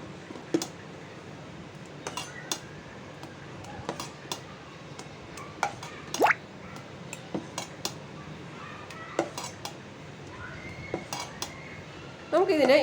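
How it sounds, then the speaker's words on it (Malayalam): A spoon stirs idli batter in a half-full vessel, with soft squelching and repeated clinks of metal against the pot rim at irregular intervals and no talk. "സ്പൂണിട്ട് നമുക്ക് നല്ലതുപോലെ ഇതിനെ ഇളക്കി യോജിപ്പിച്ച് കൊടുക്കണം"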